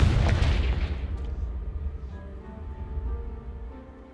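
A Confringo spell blast in the game Hogwarts Legacy gives one loud, booming explosion at the start, then a long rumbling decay that fades over several seconds, with faint debris and ringing tones trailing off.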